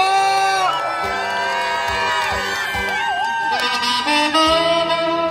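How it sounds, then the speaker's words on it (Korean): An outdoor busking concert crowd at a city cultural heritage festival cheers and whoops continuously, a loud sustained roar of voices with some shouting, alongside saxophone-like tones and amplified sound. "함성 역시 수준이 있어요."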